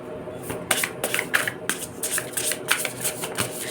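Oracle cards are shuffled by hand for a tarot reading, giving quick repeated riffling bursts and soft slaps, close and fairly loud, with no talking.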